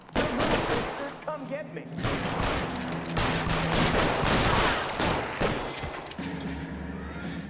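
Dense L.A. Noire gunfight with repeated loud gunshots and volleys crackling almost continuously, while a voice briefly calls out over the shooting.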